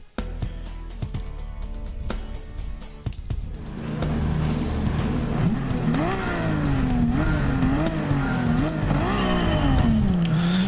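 Race cars launch off the starting line in a racing video game, engines revving and rising through gear changes in a loud, sustained roar with tire squeal.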